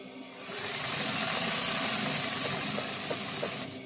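Embroidery machine stitching in place to lock off an embroidered design, a steady mechanical whir with a faint rhythmic ticking that runs continuously and fairly close throughout, with no talking.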